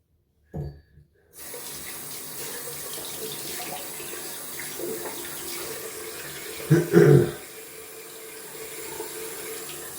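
A tap runs cold water steadily, splashing into a sink during wet shaving with a safety razor, with a brief louder gush near the end and a short pause at the start.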